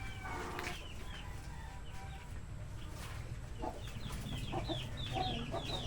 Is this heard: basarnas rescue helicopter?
no